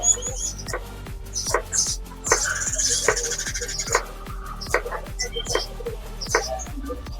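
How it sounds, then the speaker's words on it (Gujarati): Fresh green coriander leaves being finely chopped with a knife for a Kathiyawadi tempered millet rotlo dish: quick, steady chops on a board repeat throughout, with faint voice and background sounds. "હવે આપણે લીલા ધાણા લીધા છે, એને પણ આપણે ઝીણા કટિંગ કરી નાખશું."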